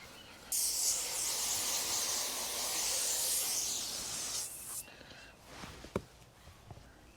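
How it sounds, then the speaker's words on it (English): A garden hose sprays water onto a 1998 Mercedes C230 being washed, a loud, broad rushing hiss lasting about four seconds, then stopping into scattered dripping, handling noises and a few knocks. "All right, so let me get the hose now."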